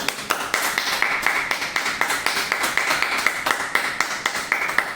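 Congregation at a live devotional chanting and meditation gathering clapping loudly in unison, a steady rhythmic beat of sharp claps about four per second, sustained and even, with no talk over it.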